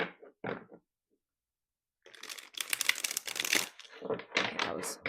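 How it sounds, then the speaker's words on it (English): Tarot cards being shuffled by hand during a pick-a-card love reading, a dense riffling and flapping burst lasting about three seconds after a few short handling sounds, followed by softer card handling. "Okay, we're gonna do one more shuffle."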